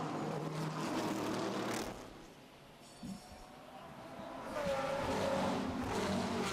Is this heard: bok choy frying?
no